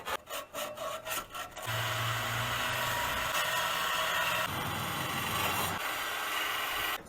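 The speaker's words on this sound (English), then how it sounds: "we want to take some sandpaper and sand around the outside of this because it's got all kinds of rust on it" Sandpaper scrubbing rust off the outside of an exhaust pipe from an Infiniti FX35, starting with a few short rhythmic strokes, then a steady, close, harsh rubbing that continues without talk.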